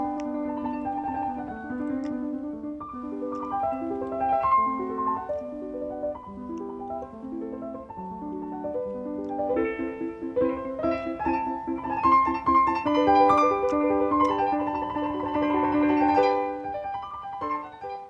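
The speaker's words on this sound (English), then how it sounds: "what you just heard was an example of chamber music, because it was just for the piano" Solo piano plays a flowing melody over steady accompanying notes, moderately loud and clear with no other instruments or voices.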